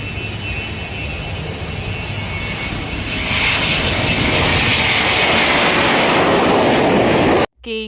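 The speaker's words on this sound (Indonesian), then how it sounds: "Wow, ada pesawat terbang teman-teman. Pesawat terbang." A toy airplane gives off a steady, droning engine roar that grows louder partway through, then cuts off abruptly, followed by a brief voice.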